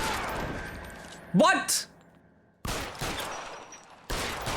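Gunfire in the video game L.A. Noire sounds as two loud, sustained bursts of shots, close and harsh, after a short spoken exclamation.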